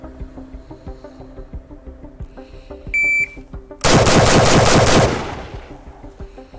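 L85A1 SA-80 military rifle fire: a dense, loud burst of rapid shots lasting about a second, after a sparse ticking rhythm and a short electronic beep.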